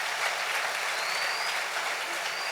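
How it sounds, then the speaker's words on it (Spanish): A church congregation applauds in praise during a Spanish-language sermon, producing a dense, even wash of clapping that fills the whole stretch without pause. "Denle un aplauso al Rey bendito."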